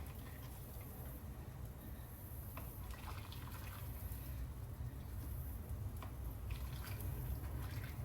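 Pickle brine poured through a makeshift funnel into canning jars gives a steady soft trickle with faint drips over a constant low background hum, no talk.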